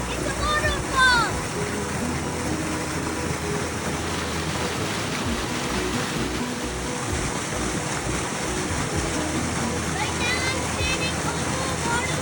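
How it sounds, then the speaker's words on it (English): Waterfall rushing in Manistee National Forest, a steady broadband roar of falling water continuous throughout, with faint bird chirps and a voice talking intermittently over it. "Hear that? It's a waterfall up there."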